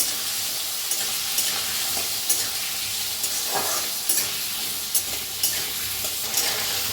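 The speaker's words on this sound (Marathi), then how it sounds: "बटाटा बघा छान असे तेलात भाजून घ्यायचे" Raw potatoes cut into long strips fry in hot oil in a pan, giving a steady, close hiss and crackle of sizzling with small pops throughout, no voices.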